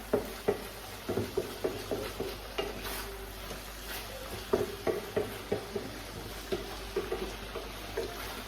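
A spoon stirs vegan chilli garlic chicken in a pan, scraping and tapping in irregular strokes over a soft, constant sizzle, fairly quiet and with no voices.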